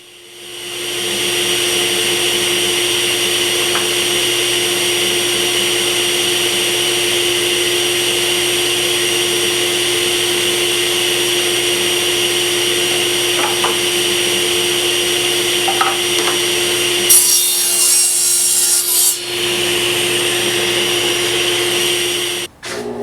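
A power saw rips hardwood boards for Mission-style bookcase casework, trimming off a knot, giving a loud, steady whining drone throughout with a brief harsher burst near the end and no speech.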